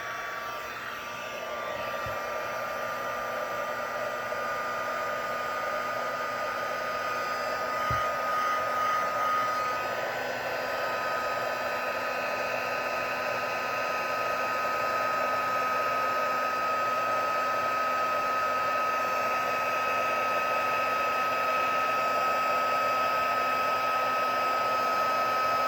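A heat gun blows hot air over embossing powder in a papercraft stencilling project, a steady, loud, close whirring hum that runs unbroken from start to finish with no talk.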